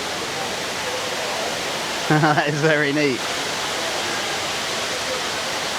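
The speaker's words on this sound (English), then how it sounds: "You can see back through the waterfall." A waterfall at an indoor attraction in Singapore, heard as a steady, close rushing hiss of falling water throughout, with a person briefly speaking over it.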